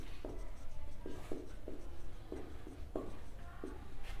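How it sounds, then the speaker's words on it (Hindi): Marker or chalk strokes on a classroom board during a GST accounting lesson, a series of short scraping taps in irregular rhythm, close and moderately faint over a low background hum. "यहाँ पे लिख दे रहा हूँ इनपुट या आउटपुट"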